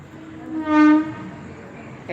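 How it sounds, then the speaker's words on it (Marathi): A short train horn blast rises and fades over a low rumbling background as a train passes near a house among coconut trees, fairly close. "रेल्वे आली बघा आमच्या घरापासून जवळच रेल्वे जाते"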